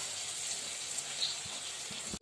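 Green peas frying in a pan with finely chopped cabbage being added: a steady, bright sizzle close by, fairly quiet, with a couple of soft knocks near the end before it cuts off.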